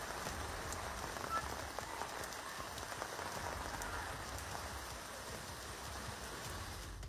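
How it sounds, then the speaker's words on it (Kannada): Heavy rain pours down on Bengaluru streets, a steady, even hiss of drops striking surfaces, continuous and moderately distant, with no voices. "ಹುಯ್ಯೋ ಅಂತ ಸುರಿಯುತ್ತಿದೆ, ದೋ ಅಂತ ಬರ್ತಿದೆ"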